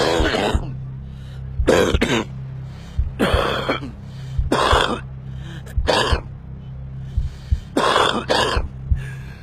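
A smoker coughs in repeated harsh, raspy bursts, several close-up coughing fits spaced across the span with short gasping breaths between them and a low hum underneath.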